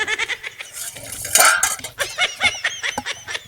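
Pots, pans and utensils clink and clatter close by as dishes are washed in an Indian household, with busy irregular metallic knocks and scrapes running throughout.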